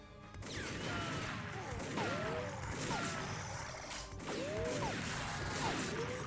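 Gunfire and impact clatter in the TimeSplitters mansion level, repeated mechanical bangs and crunches at a steady, busy pace against a dense backdrop of game noise, with no clear talk over it.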